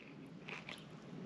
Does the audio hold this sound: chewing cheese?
yes